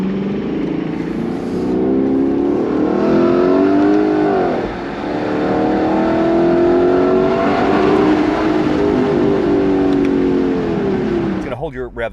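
A Lexus LC 500 Convertible (2024) engine revs up and down in Sport Plus mode in rising sweeps, with a sharp gear shift dropping the pitch midway, loud and close.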